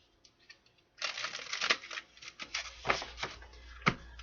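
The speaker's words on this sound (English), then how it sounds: "Two more shuffles for the person watching the collective, male or female." Tarot cards shuffle close up in a quiet room: after a brief pause, a run of crisp riffling and soft slaps comes in uneven bursts, with a sharper snap near the end.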